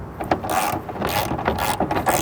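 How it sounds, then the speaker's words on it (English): A hand ratchet with a 10mm socket and extension turns in quick bursts, loosening the top and bottom tail light bolts on a 2010-2024 Toyota 4Runner. The clicking is close and loud, in several short runs, with no talk. "In this case, we use a ratchet. You're going to loosen the top and the bottom bolts."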